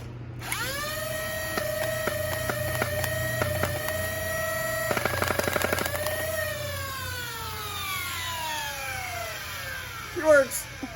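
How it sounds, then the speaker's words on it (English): Stryfle MKII flywheel foam blaster firing Adventure Force waffle darts: a whirring motor spins up with rising pitch, then a quick burst of rapid clattering shots in the middle before the whine winds down. Someone speaks over it. "Now for a firing demonstration, just with some Adventure Force waffles."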